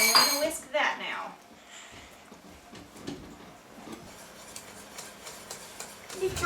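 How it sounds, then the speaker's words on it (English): A whisk clinks against a pan while bloomed gelatin is stirred into a hot mixture for a mirror glaze, with brisk metallic scraping and clinking at close range, loudest at the start and then intermittent. "We're going to add it in there and we're going to whisk that now."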